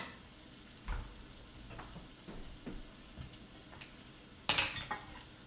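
Pork seasoned with salt, pepper, onion powder and garlic powder browns in a skillet with a steady soft sizzle, broken by a few sharp clinks and scrapes of a utensil against the pan.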